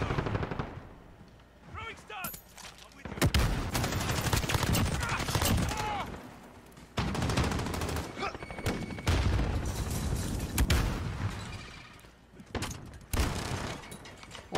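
A bombardment killstreak in Call of Duty unleashes repeated heavy blasts and rapid gunfire, loud dense bursts broken by short gaps across the whole stretch, with no voices.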